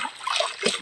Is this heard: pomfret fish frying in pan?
no